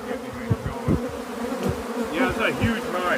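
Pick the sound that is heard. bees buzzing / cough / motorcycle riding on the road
bees buzzing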